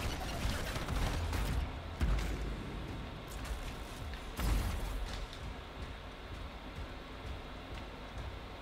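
Video game gunfire from enemies overhead in Anthem, a dense rattling fusillade with a couple of heavier impacts, continuous and fairly loud throughout.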